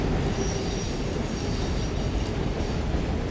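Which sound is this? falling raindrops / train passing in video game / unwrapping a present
train passing in video game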